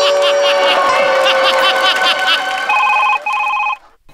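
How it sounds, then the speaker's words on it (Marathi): A telephone rings with an incoming call in a comedy sketch: a bright, melodic ringtone repeats in quick phrases, loud and close, then cuts off shortly before the end. "सर 1 मिनिट मला फोन आला सर."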